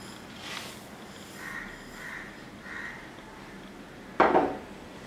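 Carrot halwa with milk and sugar being stirred in a pan, a few soft scraping strokes followed by one sharper clink of a spoon against the metal near the end, close and fairly quiet.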